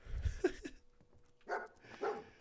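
A dog barks a few times in Fallout 4's Far Harbor, with a couple of sharp close yelps early on and then two fuller barks after a short pause, all fairly quiet.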